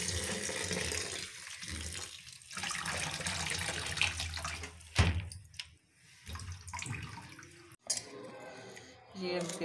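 Soy chunks are rinsed under a running kitchen tap, with water splashing and gurgling into a bowl in the sink. Brief clatters and a pause break the flow, and a voice speaks now and then.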